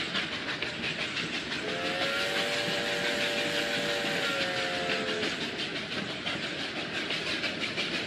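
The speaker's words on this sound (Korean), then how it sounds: "잠시 후 기차 경성역에 도착합니다." A 1930s-era steam train arriving at Gyeongseong station: steady rumbling rail noise with rhythmic clatter throughout, and a sustained whistle blast of a few seconds in the middle, no talking.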